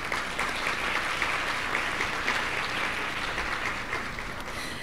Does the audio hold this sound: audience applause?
yes